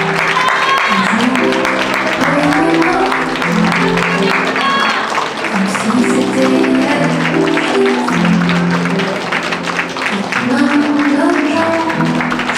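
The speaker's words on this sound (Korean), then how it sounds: "더 큰 박수로 신부를 축하해 주시길 바랍니다." Wedding guests clap steadily for the bride's entrance at a wedding hall, a dense, sustained round of applause lasting the whole stretch, with music and an announcer's voice mixed underneath.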